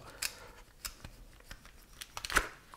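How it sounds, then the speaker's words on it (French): Gillardeau oysters being opened with a knife: a handful of sharp, dry clicks and scraping snaps scattered across a few seconds, close and fairly quiet, with one louder crack near the end and no talking. "ce qu'on va faire, c'est qu'on va ouvrir les huîtres"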